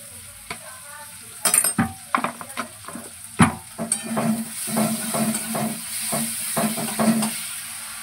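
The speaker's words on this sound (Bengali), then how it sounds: "এর মধ্যে আমি আদা রসুন বাটাটা দিয়ে দেবো। এই যে 1 চামচ আদা বাটা দিয়ে দিচ্ছি" Ginger garlic paste hits a pan for a cauliflower curry, loud crackling sizzle with repeated spoon scrapes and clinks against the pan, building into continuous frying near the microphone.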